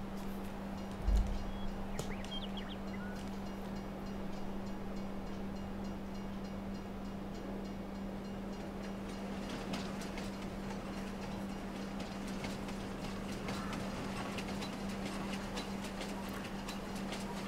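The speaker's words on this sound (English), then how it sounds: "Of course, you can't just stop a train like that. It's got quite a distance to travel even after it applies the brakes." A freight train passing in the video game Farming Simulator 22, a steady rolling rumble with a constant low engine hum and faint rhythmic clacks, moderately loud and continuous throughout.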